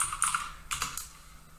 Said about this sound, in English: I'm just clicking after each of these.